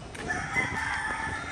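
A fighting cock crows once in a long, drawn-out call, fairly close and loud over a steady background hum.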